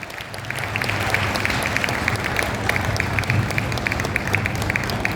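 Worshippers clap together in a Sanatan Dharma temple in Model Town, a sustained, even burst of applause that continues throughout with sharp individual claps standing out over a low murmur.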